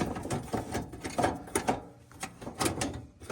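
Screws being worked out of a side cover on a Kawasaki motorcycle, a soft run of close mechanical clicks and ratcheting taps in short irregular bursts, fairly quiet with no talking.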